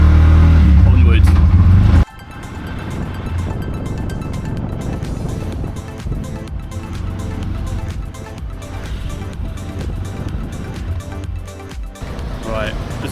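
Small motor of a tuk-tuk droning steadily through traffic in Siem Reap, Cambodia, with road rumble and wind after a loud opening moment, and a voice talking over it.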